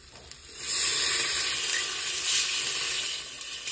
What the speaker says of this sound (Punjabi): ਇਹ ਆਪਣਾ ਤੜਕਾ ਲਗਭਗ ਲੱਗ ਗਿਆ, ਅਤੇ ਵਿੱਚ ਪਾਉਂਦੇ ਹਾਂ ਪਾਣੀ